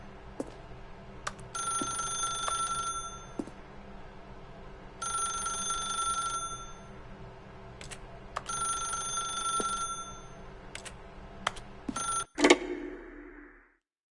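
A telephone rings in The Stanley Parable video game, repeating in bright electronic bursts with short pauses between them, then breaks off in a clattering handset pickup near the end. No voices are heard.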